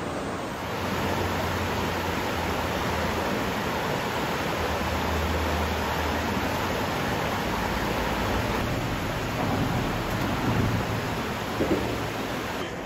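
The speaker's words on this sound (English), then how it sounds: "So here we are looking at Towhickan Creek behind me" Towhickan Creek near Sterner Mill at Lake Nockamixon flows steadily nearby, a broad, even rushing hiss of moving water that runs unchanged throughout with no voices.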